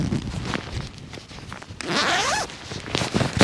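A zip on a Jerven Hunter survival bag is drawn along outdoors at a hill camp, with a long rasping zipping run in the middle among smaller fabric rustles and short zip tugs, close up.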